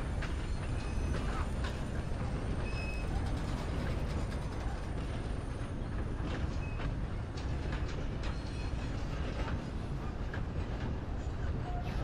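A train in the video game Red Dead Redemption 2 rumbles along in a continuous, dense roar with faint rattling and clanking throughout, steady and unbroken.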